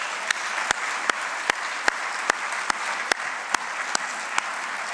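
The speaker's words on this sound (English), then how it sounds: "Let's give our law enforcement community a round of applause." An audience claps steadily for the local law enforcement community, a continuous wash of applause punctuated by sharp, regular louder claps close by, with no speech over it.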